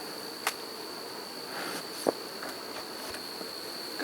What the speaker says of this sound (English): Good amount of bees up here.